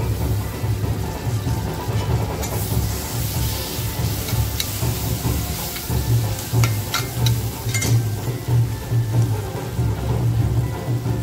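Tomato dropped into frying masala for a mutton vajri khichdi, sizzling and crackling steadily and fairly loud, with sharper pops partway through and no one talking.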